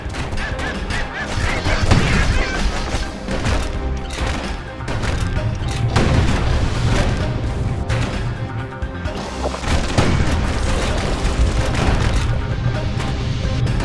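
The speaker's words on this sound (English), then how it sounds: "Security skiffs keep on coming starboard side. Don't seem to care what they shoot, as long as they hit something." Security skiffs firing in the video game Bastion: a dense barrage of loud booming shots and crashing impacts, irregular bursts repeating throughout over a busy game soundscape.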